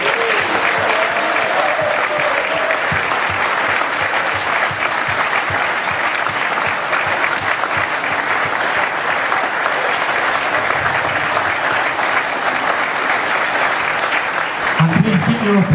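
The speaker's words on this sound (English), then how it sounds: "Please can you put your hands together for next year's first 15 captain, George Wilson." Loud, sustained applause from a large audience at a school rugby awards ceremony, dense clapping that continues evenly for the whole stretch with faint crowd murmur and brief voices beneath it.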